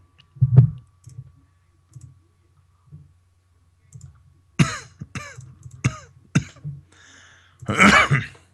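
Several short, harsh coughs and throat-clearing bursts come close up, spaced irregularly, ending in a longer rough cough fit.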